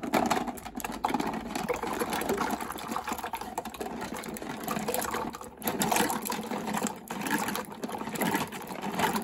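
Chestnuts poured into a pot of water make a steady, close rattling splash and trickle that runs the whole time, briefly dipping about halfway through.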